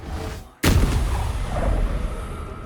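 A grenade bursts during a fight in Baldur's Gate III, a sudden loud blast that cuts in after a brief lull and leaves a heavy, lingering rumble.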